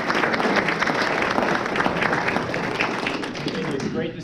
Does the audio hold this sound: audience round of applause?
yes